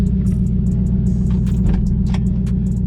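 A Saleen car with a TH400 transmission driving through a subdivision, its engine a loud, steady low rumble close by, with faint ticks and clatter riding on top.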